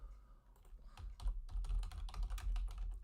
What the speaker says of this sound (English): I kind of butchered that typing